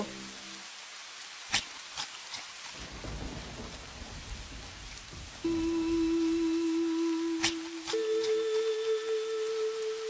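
Steady rain hisses, joined by rumbling thunder and a few sharp cracks, then a sustained tonal hum rises over the downpour.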